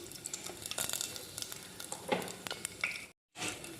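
Tempering sizzling in a hot pan as asafoetida and small onions go in, a steady close crackle with sharper spits and pops, broken by a brief gap near the end before the frying resumes.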